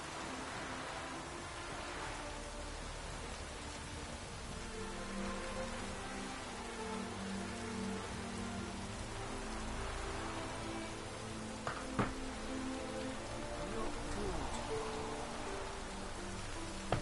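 Steady rain pattering continuously in The Witcher 3: Wild Hunt, with a soft hiss throughout and a couple of brief knocks near the end.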